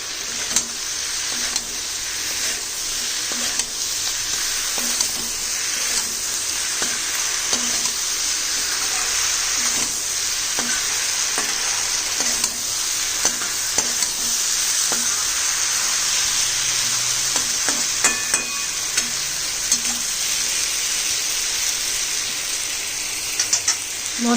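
Mushroom pieces frying with spices in a pan, giving a steady loud sizzle throughout, with repeated light scrapes and clicks as they are stirred.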